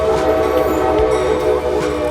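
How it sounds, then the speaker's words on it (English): A loud, close commuter train rumbles past on an adjacent track with a steady metallic hum and tonal ringing, continuous for the whole moment. "we're also right next to the commuter train track, so it's loud as hell"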